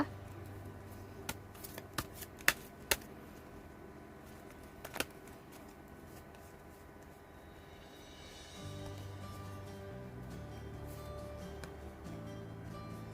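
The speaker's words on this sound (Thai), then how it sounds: "เดี๋ยวเราจะเปิดไพ่ Wisdom Oracle นะคะ" Wisdom Oracle cards being shuffled by hand, a soft papery riffle and patter that runs steadily, broken by a few sharp taps early on and growing slightly fuller toward the end, with no talking.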